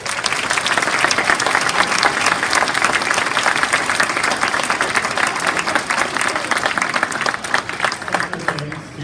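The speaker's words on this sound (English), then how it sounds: "Would you all please join me one more time in giving them a round of applause?" Sustained, dense applause from a graduation audience honoring staff and faculty, loud and steady across the whole span, easing slightly at the very end.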